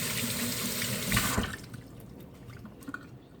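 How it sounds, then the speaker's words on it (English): A pepper is rinsed under a kitchen tap, water rushing close and steady for over a second before it shuts off, followed by faint drips and handling sounds, with no talking. "the first thing we're going to do is prepare this pepper. I'm going to give it a quick rinse."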